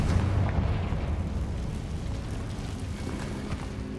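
Confringo blasting spell in the game Hogwarts Legacy: a loud, deep explosive boom right at the start, then a rumbling roar of debris that slowly fades over a few seconds.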